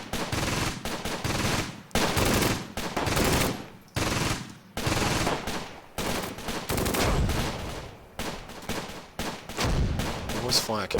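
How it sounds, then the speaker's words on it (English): MG42 machine gun fire in the Close Combat WWII game, heard as repeated loud, rapid bursts separated by short pauses, with other gunfire layered in between. "This is one MG42 at the moment firing on this section"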